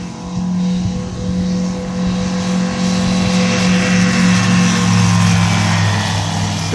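An ultralight aircraft at Cambaie airfield on Réunion flies along the runway axis, a loud, steady droning engine hum that swells slightly as it passes close by, with no talking.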